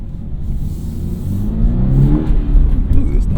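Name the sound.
Toyota GR86 engine accelerating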